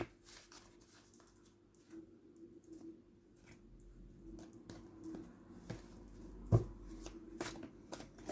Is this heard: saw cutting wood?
no